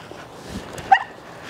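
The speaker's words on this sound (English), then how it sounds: "Did you hear that little yelp?" A Cane Corso puppy lets out a single short, mild yelp at a leash correction, brief and fairly close over quiet outdoor background.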